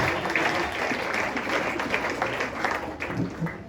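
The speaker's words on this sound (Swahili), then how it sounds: "Pige makofi na vigelegele." A crowd at a Sunday church service claps continuously amid lively, excited noise and ululation, the applause dense and fairly close.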